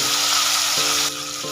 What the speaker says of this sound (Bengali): আলুগুলো হালকা ভেজে নেব